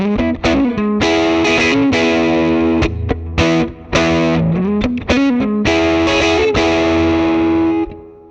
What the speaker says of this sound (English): Now, most players play this at volume 10 and they never move it.